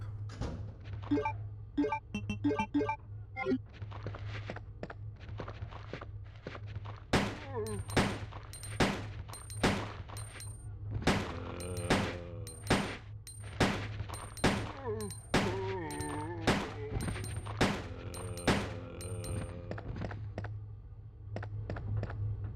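Rapid volleys of gunfire from a handgun in the Resident Evil 2 video game, a dense run of sharp repeated shots over a steady low hum, with short pauses between bursts.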